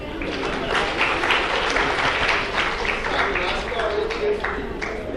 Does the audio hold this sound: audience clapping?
yes